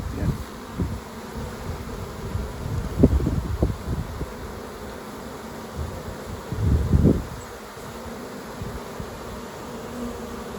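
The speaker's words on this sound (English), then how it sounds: "You see bees are coming in with pollen on their legs as well" Honey bees buzz around hives at a city farm in Norfolk Park, a dense, continuous drone close by with louder swells as individual bees pass near, returning foragers carrying pollen.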